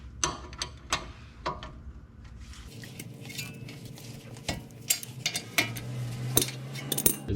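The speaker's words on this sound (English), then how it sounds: "the breaker bar made it very easy to get those off" Metal clanks and ratcheting clicks from a breaker bar and socket loosening brake bracket bolts on a 2014-2018 Jeep Cherokee, with scattered sharp knocks and a brief low hum near the end.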